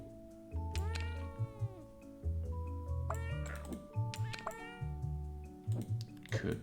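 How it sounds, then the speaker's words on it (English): Cartoonish cat meows from a puzzle video game about organizing cats, repeated several times in bursts over a steady musical backdrop with faint clicking, loud and close. "Are the cat sounds absolutely necessary?"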